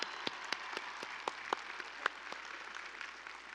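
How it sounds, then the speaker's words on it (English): A crowd at the University of Wisconsin-Madison spring commencement ceremony applauds, a dense wash of clapping from a large audience with a few louder sharp claps standing out, steady and no voices. "They deserve a big round of applause."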